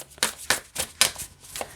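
A deck of recipe cards is shuffled with quick riffling bursts, about six crisp close papery ripples in an uneven rhythm, with no talking.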